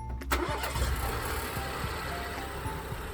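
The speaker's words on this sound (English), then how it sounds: "this app, which allows you to remotely start the car using your cell phone" A Ford EcoSport engine starts remotely: a brief crank and catch, then the engine settles into a steady mid-pitched idle close by.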